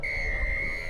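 A referee's whistle signals kickoff at a high school rugby union match: one steady, sustained shrill blast holding for nearly a second over low outdoor rumble.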